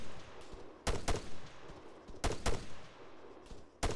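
Gunfire in the video game ARMA 3: several sharp shots in quick pairs and singles, spaced across a few seconds over a quiet background, fairly faint overall.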